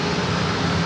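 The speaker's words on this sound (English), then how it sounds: "Southwest Airlines flight 1624 heading to Vegas on a 737 MAX 8" Steady broadband roar of a Southwest Airlines Boeing 737 MAX 8 jet at San Diego airport, loud and constant without breaks, no voices.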